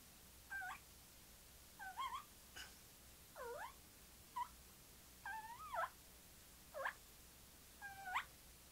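A diaphragm mouth call imitating a turkey whine gives a series of short, high whining yelps, about seven of them, spaced evenly over quiet background hiss.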